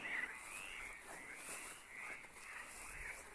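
Toads and frogs croak at night in a cemetery, a steady chorus of rolling, pulsing calls at moderate distance in a quiet setting.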